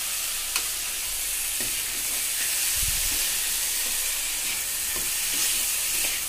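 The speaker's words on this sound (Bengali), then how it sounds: "ডালের সঙ্গে মশলা খুব ভালো মতো কষিয়ে নেব।" Lentils (dal) fried with spices in a pan for a taro dal, a loud, continuous close-up sizzle with faint stirring scrapes and a soft low thump partway through.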